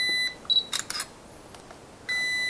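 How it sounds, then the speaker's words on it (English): Holy Stone HS430 micro camera drone sounding its low-battery warning: a steady high electronic beep at the start and again at the end, with a few brief clicks and chirps between, close and clear with no talking. "And it keeps beeping, warning you that you have low battery."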